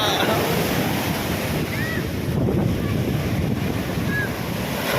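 Rough, typhoon-driven sea waves surge and crash continuously, loud and close, with heavy wind buffeting the microphone and a voice speaking faintly underneath.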